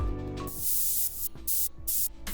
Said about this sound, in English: We've got obviously a drop noise layer,